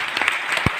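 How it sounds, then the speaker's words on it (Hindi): Brief burst of crowd clapping from an audience at a motivational MLM business meeting, a dense patter of hands with one sharp, louder clap standing out near the end. "एक बार हाथ ऊपर करके दिल खोल के ताली बजाइए।"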